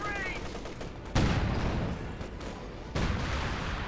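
Artillery fire in the real-time strategy game Company of Heroes 2, heavy booming impacts landing twice over a continuous rumbling battle din, with a faint voice briefly audible at the start.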